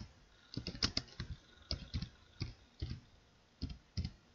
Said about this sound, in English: Just typing this in at the same time so I don't, I'll come back to it.